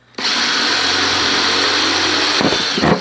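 A power drill with a very long bit whirs loudly and steadily close up, drilling holes in plastic, then slows and stutters as the bit bites through at the end.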